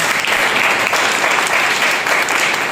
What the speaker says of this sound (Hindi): स्वागत करते जोरदार तालियों के साथ।